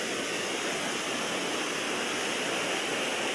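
Rushing floodwater pours steadily down a swollen creek after heavy rain, a loud, continuous broadband roar with no breaks, close by and with no voices over it.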